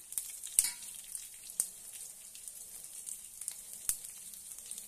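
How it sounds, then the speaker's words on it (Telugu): Tempering of mustard seeds, cumin, urad dal and dried red chillies frying in hot oil for cabbage chutney, a soft steady sizzle with sparse popping crackles and a few sharper spits, close and fairly quiet. "పోపులు వేయించుకుందాం"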